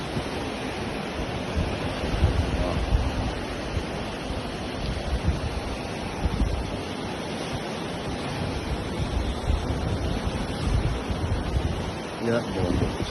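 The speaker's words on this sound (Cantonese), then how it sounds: "浪聲就好聲" Sea waves seen from a cruise ship sailing near Miyako Island toward Okinawa, heard as a steady, dense wash of surf and wind that stays fairly loud and unbroken throughout.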